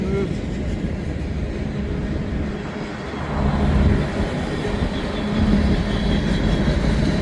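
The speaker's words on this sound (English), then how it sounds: "I hear the train a coming." Low rumbling of a train passing nearby in downtown Kingman, Arizona, a continuous heavy drone that swells midway and again toward the end.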